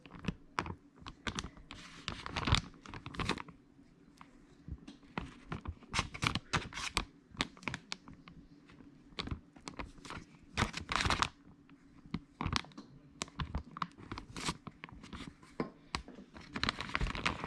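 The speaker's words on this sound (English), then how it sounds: "just get a big old spoon and start ladling it in" A big spoon scoops flour into a Ziploc plastic bag, giving irregular close scrapes, soft thumps and crinkly plastic rustles that come in clustered bursts with short pauses.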